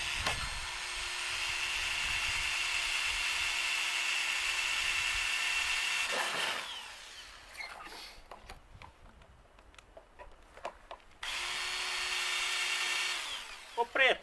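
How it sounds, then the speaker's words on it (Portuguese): A power drill whirs loudly for several seconds, stops amid faint clicks and handling noises, then starts up again for another burst. "Agora eu vou fazer os furos. Vou ter que pegar a furadeira."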